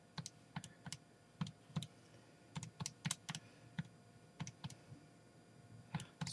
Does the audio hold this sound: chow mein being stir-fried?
no